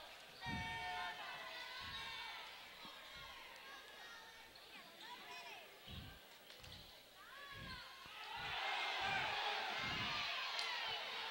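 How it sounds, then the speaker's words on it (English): A high school basketball crowd in a 2008 Dothan versus Rehobeth game reacts to a referee's call, with murmuring that swells into loud, sustained displeasure. Sneaker squeaks and ball bounces come through, and a commentator talks over the noise. "The crowd weren't very pleased with that call."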